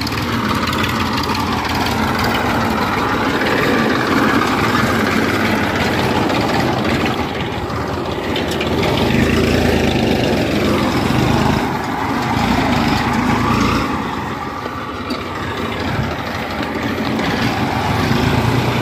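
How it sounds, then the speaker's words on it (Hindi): A tractor fitted with a leveler attachment runs continuously nearby, a steady, loud engine drone with slight swells as it works the soil outdoors. "ये दोस्तों प्लेसर वाला ट्रैक्टर है, जो प्लेसर उठ रहा है दोस्तों"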